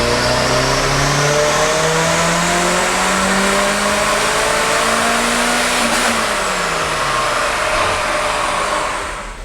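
A supercharged Mazda Miata engine screams on a dyno pull, its pitch climbing steadily for several seconds then dropping sharply as the throttle lifts, loud and close with a constant roaring whine and no talk.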